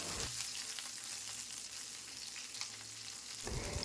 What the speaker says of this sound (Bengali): কালো জিরে, রসুন আর কাঁচা লঙ্কা তেলের সাথে ভালো করে নাড়াচাড়া করে দিয়ে দেবো